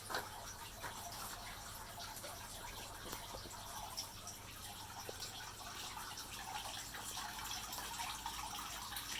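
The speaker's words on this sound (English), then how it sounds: "Got water flowing from the top into the first stage. Now we're getting water in the second stage." Water runs steadily down the stages of a waterfall feature inside an off-grid hydroponic greenhouse, a continuous splashing, trickling wash at moderate distance with no talk over it.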